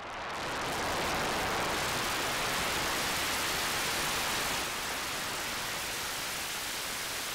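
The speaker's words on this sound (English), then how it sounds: "we can make rain" Rain effect synthesized with noise modulation on a Roland SH-101: a dense, steady hiss of filtered noise, loud and unbroken, with a slight level drop partway through and no talk.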